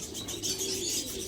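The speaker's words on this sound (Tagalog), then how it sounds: "Alright, so ito na mga ibon natin mga kalapatids" Racing pigeons return to their loft after an 80-mile training toss, with soft cooing and chirping calls plus faint wing flutters blending into a steady, close outdoor hum, no voices present.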